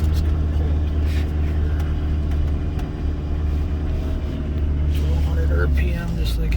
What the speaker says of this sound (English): all the extra injector clatter you could ask for, just a rolling it